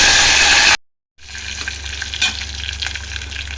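Curry leaves hit hot oil already holding urad dal and chana dal, a loud burst of frying cut off by a brief silence, then a softer, steady sizzle with small crackles.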